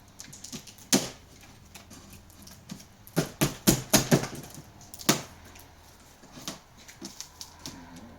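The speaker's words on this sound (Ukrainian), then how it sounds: "відкриваємо саму коробочку" Crackling and sharp tearing snaps of cardboard and tape as the box of an Active 3800 petrol generator is opened in a quiet room, several quick bursts clustered together with brief pauses between.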